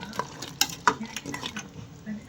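A spoon scrapes and clinks against a pot while thick goat head curry with coconut paste is stirred, with soft bubbling and sizzling underneath.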